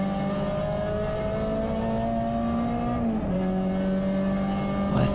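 Race car in a CSCC event at Anglesey circuit pulling hard out of a hairpin, heard from inside as a loud, steady engine drone rising in pitch, dipping briefly at a gear change, then climbing again.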